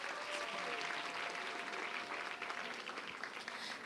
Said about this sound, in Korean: 목사님께 다시 한번 박수.